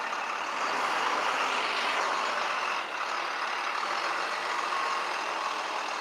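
A tow truck idles and maneuvers with a steady broadband engine drone and faint reversing beeps, heard at moderate distance with no talking.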